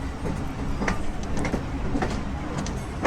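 Train pulling into Peshawar railway station in Pakistan, a steady loud rumble of wheels and carriages with faint clicks and clanks running throughout, no voices.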